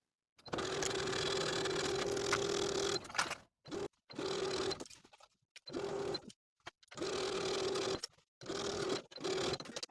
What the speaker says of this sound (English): Sew all the way around the entire top of the skirt with a 1/2 inch seam allowance.